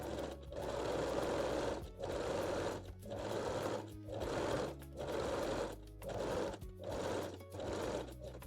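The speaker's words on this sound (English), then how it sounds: "Now set your machine to zigzag or 3-step zigzag stitch and finish both underarms with fold over elastic." Sewing machine zigzag stitching fold-over elastic onto a lace bralette, a steady close mechanical whir in short bursts of about a second with brief regular pauses, and no speech.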